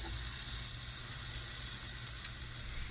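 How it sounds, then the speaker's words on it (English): Butter melts in a pan over very low heat at the start of a béchamel roux, giving a steady, even hiss of sizzling that runs throughout without any talk. "melt the butter."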